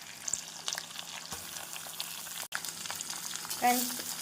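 Onion with curry leaves and green chillies sautéing in a pan as purple cabbage goes in, a soft steady sizzle with scattered spoon taps and a brief louder hiss near the end.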